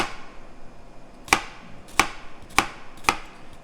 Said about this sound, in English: We're just not cutting through that root, but we're cutting all the way down to the cutting board.